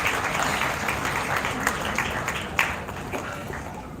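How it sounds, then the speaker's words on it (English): Audience applause for the guest of honor, Mrs. Vardha Nadiadwala, at a Mesco trust program: steady crowd clapping over four seconds, broad and sustained, with a few sharper claps standing out near the end. "Please give a big round of applause to Mrs. Nadiadwala."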